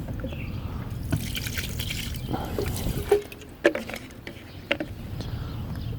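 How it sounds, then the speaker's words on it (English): Water from a tap trickles into a Scotts 1 gallon multi-use plastic sprayer, a steady filling splash broken by scattered drips and a few sharp plastic clunks nearby. "Now I put 2 gallons of water to the top"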